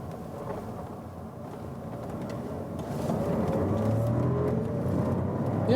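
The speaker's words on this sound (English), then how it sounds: "as soon as you hit the throttle, you also get some decent power here from this 3-cylinder" A Skoda Kamiq 1.0 TSI three-cylinder engine accelerates, a low droning engine note that swells steadily louder partway through, heard from inside the car with road noise.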